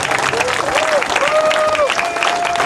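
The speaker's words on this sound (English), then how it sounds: "I would like a great round of applause for our national union leader" Applause from a crowd at a CAW Local 1000 union strike gathering greets the national union leader Ken Lewis: steady broadband clapping with raised voices and cheers rising and falling over it throughout.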